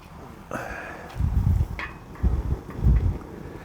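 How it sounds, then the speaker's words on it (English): Breezy outdoor wind buffets the microphone beside a camp stove in low, gusty rumbles that swell and fade in several bursts, with faint rustling between. "And it's breezy out here, so that's why you'd want to have a windscreen on this"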